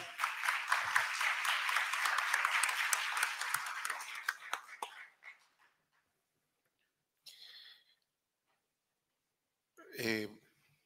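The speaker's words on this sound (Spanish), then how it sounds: "Aplausos, por favor" Audience applause for two speakers at a journalism master class, a thick burst of clapping over the first five seconds that then fades out, followed by silence and a couple of brief, unrelated noises.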